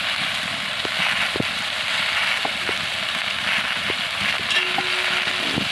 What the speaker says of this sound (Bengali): এখন সবজিগুলো দিয়ে দেবো। কুমড়া ডাঁটা, বেগুন, আলু।